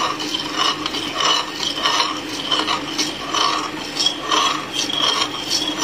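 A spoon stirs sugar into a lychee gelatine mixture in a bowl, giving rhythmic scraping, rasping strokes about twice per second, close and steady with no talking.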